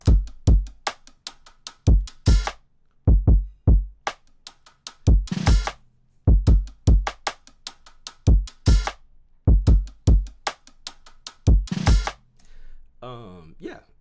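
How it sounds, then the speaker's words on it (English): A programmed drum loop with punchy kicks, sharp snare hits and ticking hi-hats plays alone in a steady, repeating pattern, loud and close, with short gaps between phrases. "the drums sound like this,"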